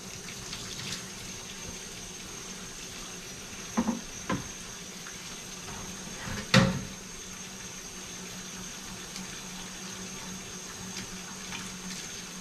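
Tap water runs into a kitchen sink to soak food, a faint steady hiss with a few clattering bumps of handling near the middle.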